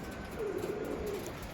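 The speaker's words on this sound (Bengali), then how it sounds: "অরিজিনাল আন্ধ্রা পায়রা।" Andhra pigeon, one of a red-vein lalsira pair in a loft, gives a single soft, low coo lasting about a second, close by but quiet.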